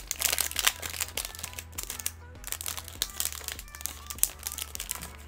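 Crinkling foil of an old Yu-Gi-Oh booster pack wrapper being worked open by hand, close and irregular, with sharp crackles over a steady low hum in the background.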